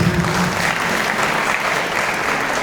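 A gathering of listeners claps loudly and continuously in honour of a donor during a Hindi-language religious assembly, a thick, even wash of hands that holds without a break; a voice is faintly audible at the very start.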